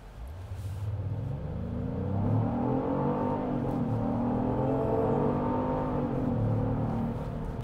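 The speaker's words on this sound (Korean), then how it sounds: "이 정도 100km까지의 가속력을 보여줍니다. 풀악셀을 밟았을 때." Genesis GV70 facelift SUV accelerating at full throttle toward 100 km/h, engine rising steadily in pitch through the gears with a smooth building roar, heard from inside the cabin.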